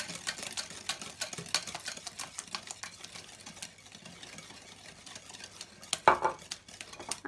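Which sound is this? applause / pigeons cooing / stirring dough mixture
stirring dough mixture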